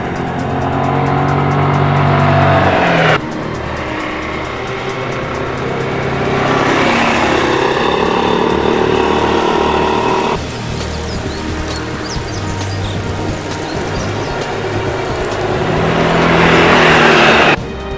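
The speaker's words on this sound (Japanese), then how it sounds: "それではいつもの峠道を走ってみたいと思います。" A Suzuki Burgman 400 ABS scooter is ridden up a mountain pass road, its engine droning loudly and steadily with repeated throttle surges and pitch shifts, plus wind rush, and no one speaking.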